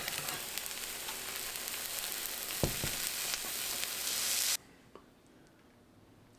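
Food frying in a covered pan on a stovetop set to medium heat gives a steady, close sizzle that runs unbroken for several seconds and then drops off abruptly to near quiet.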